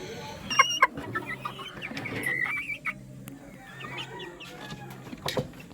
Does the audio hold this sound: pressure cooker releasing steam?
no